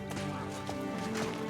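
Horse hooves clip-clop in the medieval video game Kingdom Come Deliverance 2, a steady near trot under a layer of tonal background sound.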